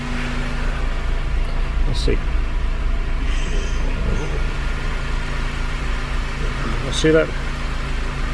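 A Honda K24 engine with larger injectors idles in an EP3, otherwise stock. A steady low engine hum runs under someone talking nearby, with brief mechanical clatters along the way.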